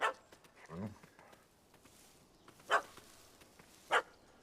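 A dog barks in The Witcher 3: a few sharp, separated barks at moderate distance over quiet game ambience, with a brief low whine-like sound early on.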